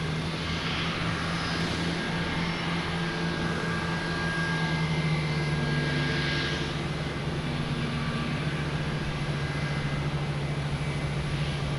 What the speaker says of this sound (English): Here we got Aer Lingus, an A321neo heading to Shannon.